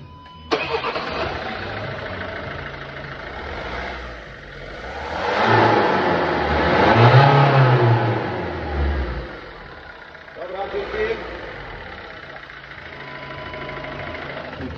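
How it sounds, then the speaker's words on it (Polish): A Volvo 1.6 diesel car engine with a rebuilt turbo and injectors cranks and catches, then is revved several times in swelling bursts before settling to idle, close and fairly loud. "Teraz odpalimy Wam to autko, przygazujemy parę razy, zobaczcie, jak to fajnie sobie teraz pracuje."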